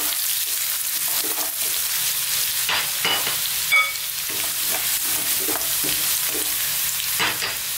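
Chopped garlic and ginger fry in a pan with curry leaves, giving a steady hiss of sizzling oil with intermittent stirring clatters and small pops, close and moderately loud.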